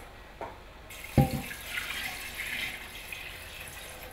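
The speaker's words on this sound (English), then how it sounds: "we will also need to put some water, because we are going to be boiling this" Water runs steadily into a metal pressure cooker after a couple of sharp clinks, a soft continuous pour with faint splashing, close by and quiet.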